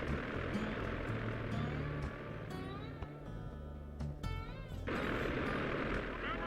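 A plane's engine drones steadily in the Sly 2: Band of Thieves video game, a low buzzing hum under scattered game sound effects and tonal chirps, dipping briefly midway before returning.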